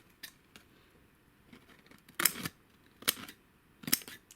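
Vintage electrician's snips cutting brown paper, three crisp close snips with short gaps between them, preceded by a few faint clicks and handling noises.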